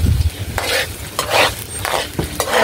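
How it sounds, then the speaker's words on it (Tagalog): Ginger being stirred with a utensil in a sizzling frying pan, a few loud scraping stirs repeated over steady frying, with no voices. "Haluin po mga idol."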